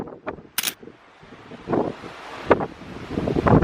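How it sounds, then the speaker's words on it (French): Strong wind on the deck of the MSC Musica cruise ship, buffeting the microphone in rough, uneven gusts with rumbling bursts that come and go, loud and close. "il y a tellement de vent que mes cheveux ils vont n'importe comment"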